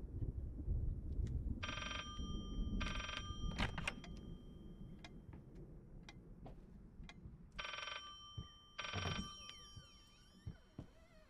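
A telephone rings inside the horror game Layers of Fear with repeated electronic bell bursts in pairs. A low ambient rumble and scattered clicks sit underneath, and no one speaks.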